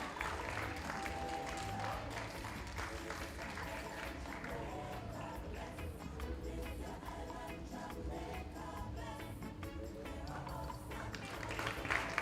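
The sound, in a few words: audience applause for award winners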